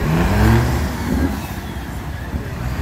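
Bus engines rev loudly before a drag race, a deep rumbling roar that swells early and then holds a rough, steady idle, close by and outdoors.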